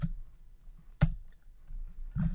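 Keyboard typing while entering Python code: sparse, quiet key taps, one sharp loud click near the middle, and a brief cluster of keystrokes at the end, alone without speech.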